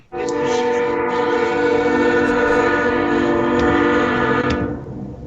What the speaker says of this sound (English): I'm sorry, the train's going by.